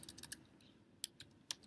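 Keys on a computer keyboard are struck in a brief, quiet flurry while code is written, a few light irregular clicks with slightly sharper taps standing out, close by in an otherwise hushed room.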